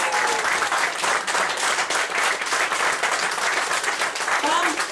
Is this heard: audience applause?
yes